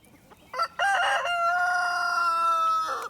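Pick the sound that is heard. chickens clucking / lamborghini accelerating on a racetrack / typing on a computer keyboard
chickens clucking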